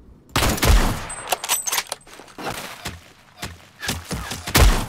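Gunfire in a Roblox shooting game, scattered sharp shots and short bursts with thuds in between, fairly close and without talk.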